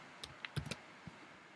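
A few scattered keystrokes on a computer keyboard, soft clicks in small irregular bursts in a quiet room, with no one talking.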